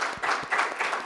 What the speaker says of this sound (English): please a round of applause for all our panelists